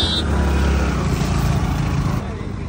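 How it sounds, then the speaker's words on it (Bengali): Steady low engine drone of a boat approaching a river ghat, a continuous loud rumble that holds through most of the stretch and eases slightly near the end, with outdoor background noise around it. "নৌকা চলে আসছে এই পাড়ে।"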